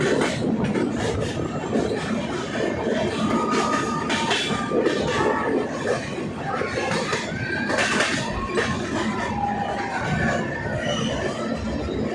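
A train rumbles steadily through a long tunnel on the Araku Valley route, dense, roaring noise with metallic squeals and rattles, loud and continuous as if enclosed.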